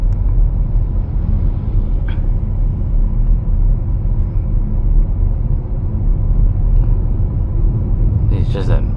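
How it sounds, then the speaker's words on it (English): Steady low tire rumble and road noise from a BMW iX1 electric car driving over a rough road surface, a constant loud drone with a brief knock near the end. "going through rough roads, you can hear the road noise"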